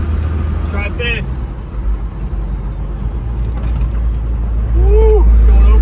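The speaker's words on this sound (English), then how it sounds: "Hear that turbo, dude?" A First Gen Cummins diesel with a turbo and wastegate, pulled from a salvage yard and now being driven, gives a steady, loud low drone with rising turbo whine, while someone talks over the engine.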